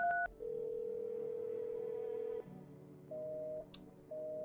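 A telephone in the video game Cadn sounds its dialing tones, a steady electronic tone that drops in pitch, then two shorter beeps separated by a pause, quiet and clean.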